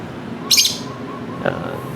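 Pet lovebirds giving two short, sharp chirps about a second apart, near and fairly clear over a quiet indoor background.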